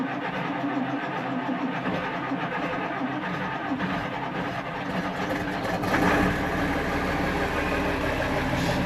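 A Fendt 516 tractor's diesel engine cranks and catches, then settles into a steady, rumbling idle close by, growing slightly louder about two-thirds of the way through.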